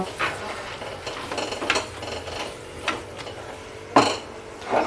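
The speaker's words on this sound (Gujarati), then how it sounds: "આ બધી જ વસ્તુને સારી રીતે આપણે મિક્સ કરી લેશું" A spoon scraping and stirring spices and red chilli powder in a pan for tava bhaji, with a few sharper clinks of metal, sporadic and close, no talking.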